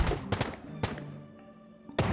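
Shotgun blasts in the video game Agent Action: several sharp, loud shots spaced irregularly, each with a short decaying tail, with no talk over them.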